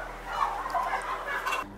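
Turkeys inside a commercial turkey farm barn, a dense chorus of overlapping gobbles and clucks over a low steady hum, moderately close and continuous before cutting off abruptly near the end, with no voices.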